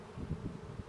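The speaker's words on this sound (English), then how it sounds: "One armful of bees." A swarm of honeybees being scooped by hand into a wooden hive box fitted with frames of wax foundation, giving a soft, close buzzing hum that swells and fades in short pulses.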